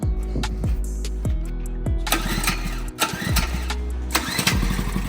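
A medium engine is cranked several times in short bursts, then catches and runs with a sputtering, uneven idle, revving up and down nearby after being filled with gas.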